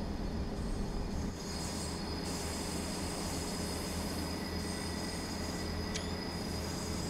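A Pacer diesel train running in the Train Sim World 4 game on the Blackpool branches, with a continuous loud rumbling drone of engine and wheels, a faint high whine over it and a brief squeal partway through.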